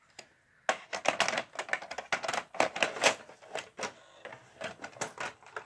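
Rapid, irregular run of sharp plastic clicks from repeatedly pressing a button on a Sony SLV-D350P VCR/DVD combo, close up and fairly loud, with no talking.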